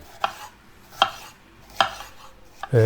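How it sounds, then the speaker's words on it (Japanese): Four sharp knife taps on a cutting board, spaced about a second apart, close and distinct, as a cored, unpeeled tomato is finely diced brunoise. "よく洗ったトマトをまず芯を取って皮ごとそのままブリュノワーズに切っていきます"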